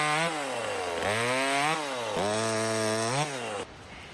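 A close chainsaw revs up and down repeatedly while limbing a fallen tree, its engine pitch rising and falling as it cuts, then cuts out abruptly near the end as it runs out of gas.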